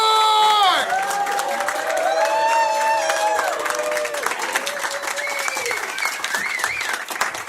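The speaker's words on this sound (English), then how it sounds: "Give a big, warm round of applause for Dan McCort!" Warm audience applause and cheering for a stand-up comedian, a dense wash of clapping with whoops and shouts rising over it, loud and sustained throughout.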